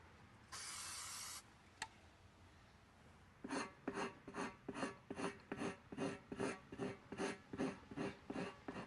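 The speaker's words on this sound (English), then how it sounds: "We'll scrape the area, and we're trying to remove the silicone that was left when they built the tire." A scraper rasps across leftover silicone on the inside of a tire in a professional repair, with a brief hiss near the start, then a steady run of about fifteen rhythmic back-and-forth scrapes, close and fairly loud.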